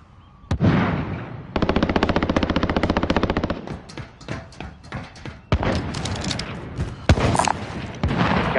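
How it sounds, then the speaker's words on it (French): Machine gun fire in a video game, loud and close, in long sustained bursts and rapid rattling volleys broken by sharp single booming shots, with no voices. "On a une mitrailleuse."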